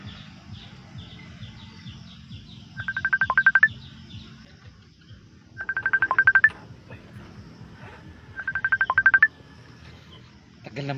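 A phone call rings unanswered, with three evenly spaced electronic ring bursts heard close over a low, steady background hum.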